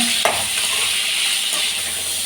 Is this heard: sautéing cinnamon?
yes